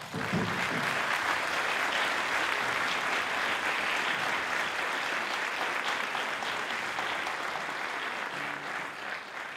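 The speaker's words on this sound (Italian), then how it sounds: "E quindi io farei intanto un applauso per questo." Audience applause at a concert event for the Banda Città di Modica philharmonic ensemble, a dense, steady wash of clapping that holds at an even level throughout, fading slightly near the end.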